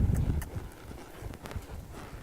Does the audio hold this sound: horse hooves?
yes